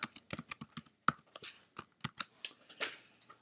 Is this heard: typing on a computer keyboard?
yes